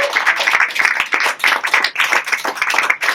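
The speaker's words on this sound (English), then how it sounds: "Give Josh a massive round of applause." A close cabaret crowd applauds after a sleight-of-hand magic trick, with loud, vigorous clapping that rises and falls in uneven waves.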